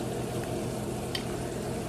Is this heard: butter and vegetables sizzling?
yes